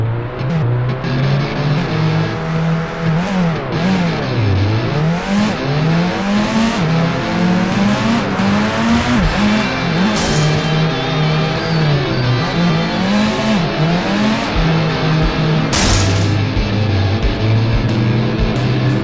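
Game car engine in a Unity scene driving through a tunnel, revving continuously with repeated rising and falling pitch sweeps as it accelerates and shifts, loud and alone with no talk.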